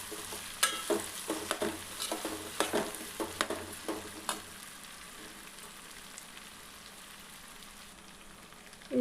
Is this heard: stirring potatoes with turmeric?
yes